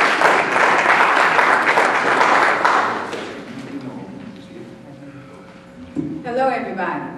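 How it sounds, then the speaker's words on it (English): A room full of people applauds a classmate at a reunion-style gathering, dense clapping for about three seconds before it fades into scattered claps, murmuring and a voice near the end. "let's give my classmate a round of applause"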